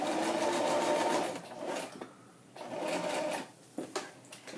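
A sewing machine runs a zigzag stitch in two bursts of steady rapid whirring, the first about a second and a half long, then a pause and a second burst, with a few brief clicks at the end.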